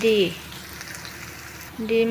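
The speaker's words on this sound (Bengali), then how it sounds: "এই তো পেঁয়াজগুলো একটু ভাজা হয়ে গেলে তারপরে আমি আলু ভাজি দিয়ে দিব।" Chopped onions fry in a karai, producing a continuous close sizzle with brief tonal sounds at the start and end.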